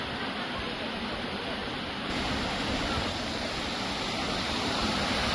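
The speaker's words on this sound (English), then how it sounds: "Top of the waterfall." Rushing water at the top of a waterfall at Hotnitsa in Bulgaria, a loud, continuous broadband roar heard up close with no break.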